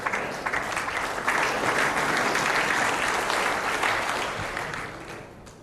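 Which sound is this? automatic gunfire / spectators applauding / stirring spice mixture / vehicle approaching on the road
spectators applauding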